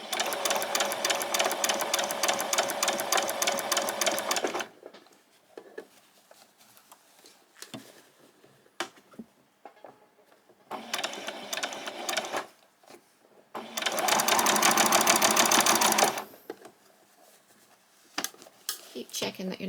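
A sewing machine stitching a handbag: rapid mechanical stitching runs in bursts of a few seconds, loud and close, separated by quieter stretches of handling noises and talk.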